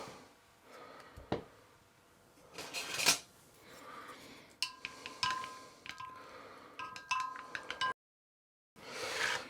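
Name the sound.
stirring to dissolve a stock pot for chicken casserole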